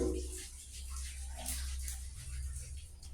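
Water splashes and pours steadily as a pet tank's water is changed, a close, continuous wash with soft gurgles and no talk.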